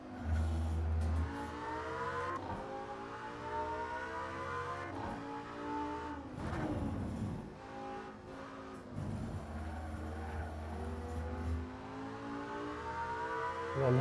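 A Lamborghini Sesto Elemento screams around the Monza circuit: a loud, close engine rising and falling through revs, with dips for braking and downshifts and sustained high-pitched acceleration, no talking.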